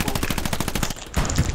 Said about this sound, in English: Oh, they got a tank shooting at me now.